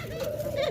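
Doves (ghughu pakhi) kept for sale coo in a soft, low, steady tone, close by and fairly quiet, with no talk over it.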